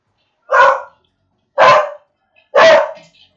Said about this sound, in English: So the dog is saying that she needs to bark at something.